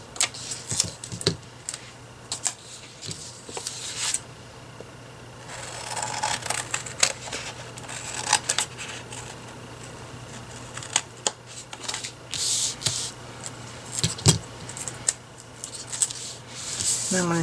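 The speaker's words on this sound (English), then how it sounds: "And then I'm going to cut this excess." Scissors snip excess washi tape in a vertical planner, giving several short sharp cuts and crisp paper rustles scattered over the span, close and fairly quiet.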